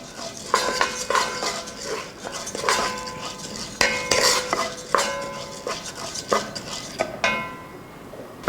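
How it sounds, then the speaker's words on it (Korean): Rice stir-fried in sesame oil in a pan for abalone porridge: steady scraping and clattering of a utensil against the pan in a continuous rhythm, with a soft sizzle underneath and no talk. "참기름을 좀 넣고요. 쌀을 좀 볶아 보겠습니다."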